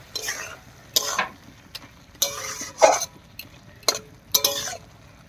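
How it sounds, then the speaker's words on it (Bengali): Spices being stirred into boiled ash gourd and moong dal in a village kitchen pot, heard as a series of separate scraping, clattering strokes of a spoon against the pot, about a second apart, close and fairly loud. "এবার খুব ভালো করে মিশিয়ে নেব।"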